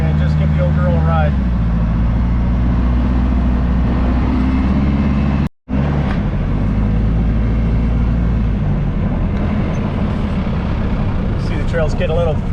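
An M1161 Growler driving on a forest dirt road in Cleveland National Forest, a loud steady low engine rumble heard from inside the vehicle with a brief dropout midway, a voice talking over it.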